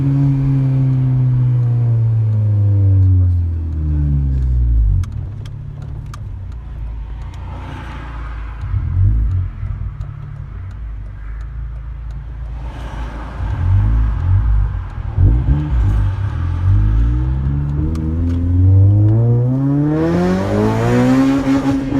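A turbocharged all-wheel-drive car with a B18/K20 engine pulls hard through several gears, its loud exhaust roaring and climbing in pitch, dropping at each shift and rising again, heard close from inside.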